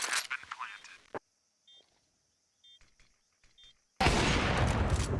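Bursts of gunfire from a Counter-Strike match during a BLAST Premier esports broadcast, heard at the start and again as a loud dense volley at the end, with brief game beeps and a quiet stretch between.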